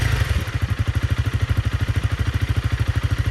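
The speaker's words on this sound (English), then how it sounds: "I'm gonna turn the bike on so that we can hear exactly what it sounds like" A Honda CRF300L Rally motorcycle idles close by, its engine and exhaust putting out a quiet, even, rapid thumping pulse with no one talking.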